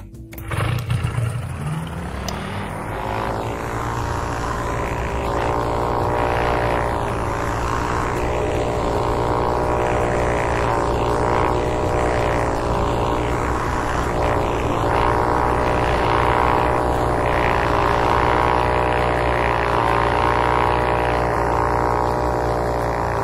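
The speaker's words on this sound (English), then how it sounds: "Ultralight 109, you are cleared for takeoff." Ultralight propeller aircraft in the flight game Ultrawings revs up for takeoff, a steady, loud droning engine with harmonic whine that builds after a brief start and holds continuously.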